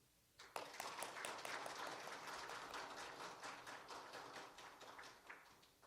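A church congregation applauds a departing pastor during a Sunday service, with dense steady clapping that starts abruptly and continues evenly throughout before tapering slightly, fairly quiet and distant, no talking over it.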